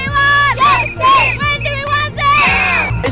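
Crowd of protesters at a 2003 anti-Iraq War march, loud close chanting and shouting voices rising and falling in repeated waves, with a low rhythmic drumming beneath.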